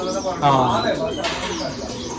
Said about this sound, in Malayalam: ഇതാണ്ടോ ജോഡി പ്രാവ്